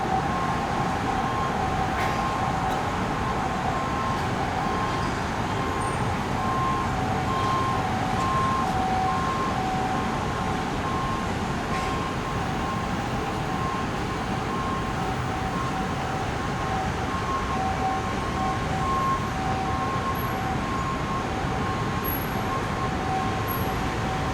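International express train no. 111 from Vientiane to Bangkok rumbles steadily and loudly close by, a continuous dense roar with a faint steady tonal whine running through it and no voices.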